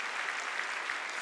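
A church congregation applauding during a Sunday worship sermon, dense, even clapping that sounds a little distant and holds steady for a brief moment.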